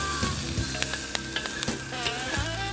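Stir frying in a wok set over a basket of coals: constant crackling sizzle of oil, with sharp scraping and clinking strokes of a utensil against the metal pan, close and fairly quiet, no voices.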